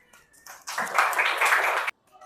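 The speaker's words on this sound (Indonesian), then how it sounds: "tepuk tangan." Children in a classroom clap their hands together in a burst of applause lasting over a second, loud and dense, after brief quieter sounds.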